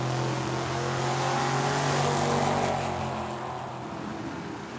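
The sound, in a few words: drag racing cars launching down the strip, including a Mustang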